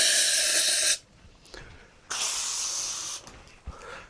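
Pressurised gas squirts out of a pressure fermenter valve during a closed transfer to a corny keg. It comes as two loud, broadband hissing bursts of about a second each, separated by quieter gaps with faint clicks.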